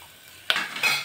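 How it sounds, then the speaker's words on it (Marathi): Peanuts and dal stir-fried in a pan with a little coriander give a quiet background sizzle, then a sharp scrape of a utensil against the pan followed by another brief stirring rustle. "1-2 मिनिट आपण हे परतायचं आहे। पहा शेंगदाण्याचा डाळीचा असा कलर चेंज झालेला आहे।"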